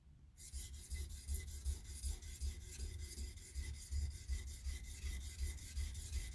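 A Japanese-style knife bevel worked by hand on a polishing stone near the shinogi line, a close, steady rhythmic rasping scrape of strokes that starts after a brief silence and continues without talk.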